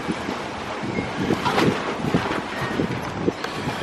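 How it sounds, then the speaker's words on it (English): Powerful wind gusts of around 60 mph roar across the flight deck of a navy ship, a dense, continuous buffeting rush with louder surges, heard close to the microphone with no talking. "These gusts of wind are powerful."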